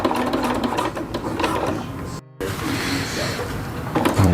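A sewing machine stitches a thick ultralight tarp edge hem with webbing, running in a steady mechanical whir, stopping briefly midway, then resuming close up.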